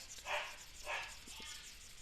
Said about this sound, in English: my dogs are barking.